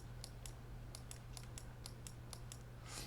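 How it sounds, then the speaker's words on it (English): A deck of Lord of the Rings card game cards is shuffled in a run of quick, crisp riffling snaps about every quarter second, ending in a longer ruffling burst, faint and close against a low hum. "let's shuffle the deck and get a hand."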